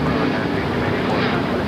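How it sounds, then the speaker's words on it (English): A China Southern Airbus A350-900 at LAX gives off a steady, broadband jet roar that holds at an even level through the whole short stretch. "A350-900, China Southern, very rare sight here at LAX"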